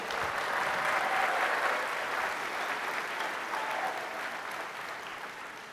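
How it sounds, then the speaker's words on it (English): A large conference audience at a tech keynote claps steadily for several seconds, a dense, even wash of many hands that slowly tapers off, with no talking over it. "let's give Misha a round of applause"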